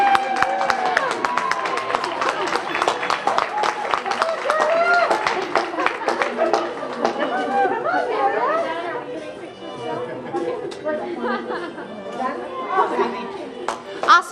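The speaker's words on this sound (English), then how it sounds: "Big round of applause." A crowd at a Halloween costume awards event at a government center claps in a dense, lively burst that fades after several seconds, mixed with steady chatter and talking throughout.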